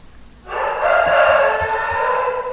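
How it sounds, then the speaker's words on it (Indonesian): A rooster crows loudly and close by, one long sustained call starting about half a second in and holding to the end, among many chickens on a property where electrical cable work is under way. "nanti backsoundnya ada ayam jago berkokok ya"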